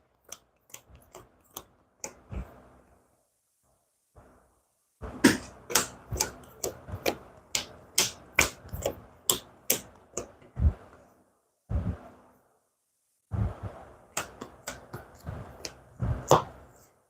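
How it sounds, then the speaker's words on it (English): Crisp papery snaps and riffles of playing cards being shuffled, in irregular bursts with short pauses, close and fairly quiet. "I'm going to shuffle my discard pile and see what I get."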